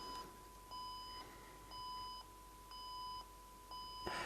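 A Sony DSR-570 camcorder's low-battery alarm gives four short, evenly spaced electronic beeps, steady and mid-loud, against a faint background hum, with a small click at the end.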